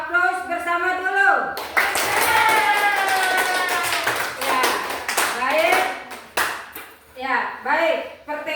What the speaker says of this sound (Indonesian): Aplaus bersama dulu.